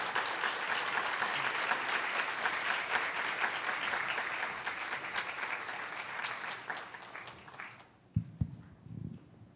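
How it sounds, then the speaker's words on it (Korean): A church congregation at a Sunday worship service claps warmly to welcome a young singer, dense applause that holds for several seconds before fading out into a few soft thumps. "박수로 맞이해 주시면 감사하겠습니다."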